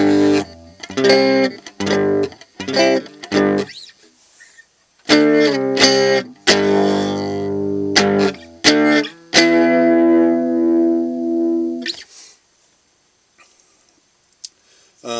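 Electric guitar driven into breakup through a TC Booster LineDriver vintage pedal, heard as a run of short distorted strums and chords that ends in a longer sustained ringing chord, loud and alone, before fading to near silence.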